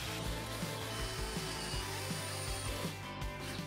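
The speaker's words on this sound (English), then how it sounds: "I just kept this routine going of checking for high spots and driving screws until the board was level" A power driver sets screws into a wooden board, giving quiet, closely spaced whirring bursts with short pauses between them.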